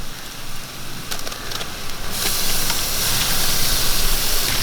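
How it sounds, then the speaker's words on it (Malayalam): Beef tipped into a pan of frying onions for a Kottayam-style kappa biriyani, erupting into loud, close, continuous sizzling hiss that swells and stays strong after the meat lands, with no voices. "ഞാൻ ബീഫ് അതിനകത്തോട്ട് ഇടുക"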